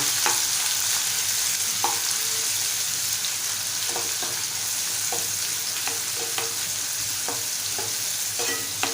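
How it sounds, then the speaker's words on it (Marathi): Finely chopped onion sautéing in hot oil with popped cumin and mustard seeds, a dense continuous sizzle broken by regular stirring scrapes, close and alone without speech. "आता आपण बारीक चिरेला कांदा घालून घेऊया परतून घेऊया"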